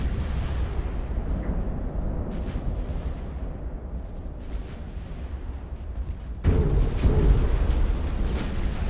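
Torpedo hits explode against a warship's bow in the naval battle game Ultimate Admiral: Dreadnoughts, a continuous heavy rumbling roar of blasts that surges louder toward the end.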